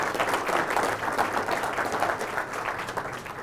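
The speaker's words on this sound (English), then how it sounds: "How about a round of applause for the photography winners?" A township audience applauds the photography winners with a full, steady burst of many hands clapping that fades slightly near the end, no talk over it.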